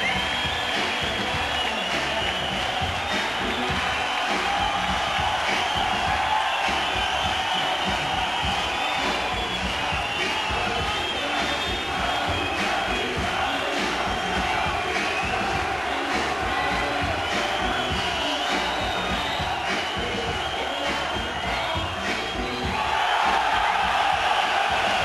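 Boxing arena crowd in Glasgow cheering and roaring for a fight involving Naseem, a dense sustained wall of voices with shouts and whoops, loud and unbroken for the full stretch.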